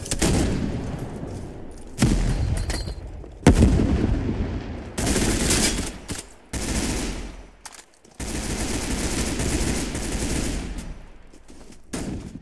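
Rapid automatic gunfire and rifle bursts in the Roblox shooter CBRO, loud sustained volleys with brief pauses between them, no talking.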